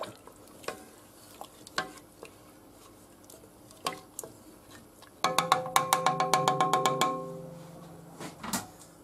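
A spoon stirring a potato, vegetable, meat and red wine stew in a pressure cooker, scattered scrapes and clinks, then a rapid run of ringing metallic knocks against the pot, close and loud.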